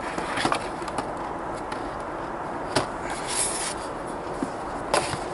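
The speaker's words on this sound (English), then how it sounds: "then we'll remove the plastic casing." Plastic casing is slid and pulled from a Bachmann Fowler 4F model locomotive box, giving soft scraping rubs and a few sharp close clicks and crinkles against quiet room tone.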